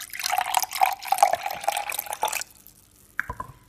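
Apple juice poured into a glass, a steady splashing, gurgling stream for about two and a half seconds, then it stops, followed by a brief dribble and a soft clink, close and fairly loud.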